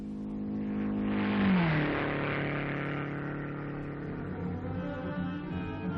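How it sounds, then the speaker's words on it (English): A 1956 MG racing car engine roars close by at speed trials, its pitch dipping as it shifts and then holding a steady, loud drone. "The car is running beautifully."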